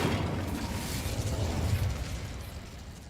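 Fire spell Incendio cast in Hogwarts Legacy, a steady rushing, roaring burst of flame with low rumble, moderately loud and continuous for about three seconds, no talk over it.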